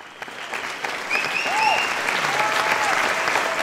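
A talk show audience breaks into applause to welcome a guest, a steady dense patter of clapping that swells after the first second, with a faint whistle-like tone over it.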